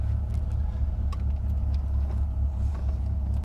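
Steady, deep engine drone from inside a moving 1996 Dodge Viper GTS coupe, a continuous low-pitched rumble with faint road noise and no talking.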